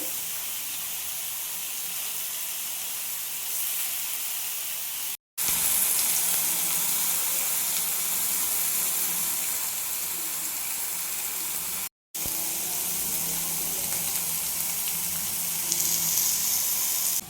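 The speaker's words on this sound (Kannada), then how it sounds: "ಎರಡೂ ಕಡೆ ಲೋ ಫ್ಲೇಮಲ್ಲಿ ಇದನ್ನು ಫ್ರೈ ಮಾಡ್ಕೊಳ್ಬೇಕು." A pineapple cake fries in oil in a pan on low flame, giving a continuous, even sizzle and hiss, broken by two very short silent gaps.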